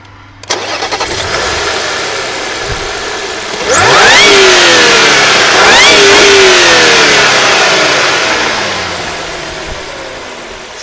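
A supercharged Audi S4 engine revs up hard from idle, climbing into a loud, screaming peak with rising pitch sweeps, then settling back down and fading toward idle, close and alone without talk.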